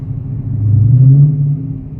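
A muscle car's deep, throaty engine rumble swells briefly as it revs in Miami traffic, then settles back to a loud, low idle close by.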